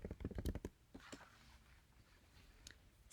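A quick burst of keystrokes on a computer keyboard while entering a search term, a rapid cluster of close, crisp clicks, followed by a few scattered taps and quiet pauses.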